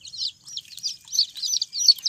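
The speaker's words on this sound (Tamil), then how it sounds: "கோழி குஞ்சு" Young chicken chicks chirp in rapid, high-pitched peeps, close and continuous, with no voices over them.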